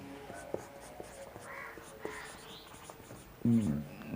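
A pen scratching out an answer during a Class 6 maths lesson on whole numbers, with soft, faint strokes and taps that grow louder near the end.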